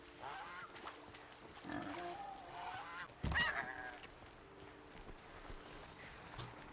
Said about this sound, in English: A goose.